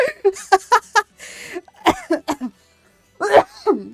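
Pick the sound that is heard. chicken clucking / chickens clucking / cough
cough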